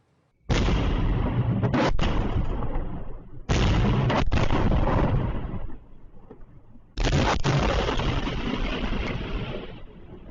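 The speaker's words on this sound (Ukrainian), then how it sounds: "А так звучить детонація складів ворожої техніки в Мелітополі." Three long, roaring bursts of explosions and crackling gunfire-like pops from detonating ammunition and military equipment depots in Melitopol, loud and rumbling with brief gaps between them.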